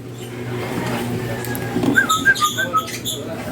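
A pet hen bird sits in a breeding box over a low background hum. Quiet at first, it then gives a handful of short, high, whistly chirps in quick succession near the end.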